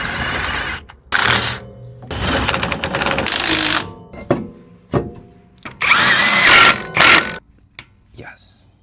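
Power tool tightening brake caliper bolts on a car fitted with a GK Tech dual rear caliper kit, heard as loud, repeated short bursts of whirring and rattling with brief pauses between them.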